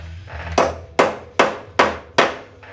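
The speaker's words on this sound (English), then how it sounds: "I'm really going to hammer it in there and see if I can unscrew this thing" Five sharp, evenly spaced hammer blows drive a tool into a broken muffler bolt on a Honda lawn mower, each strike loud and close with a short ringing decay, no talking.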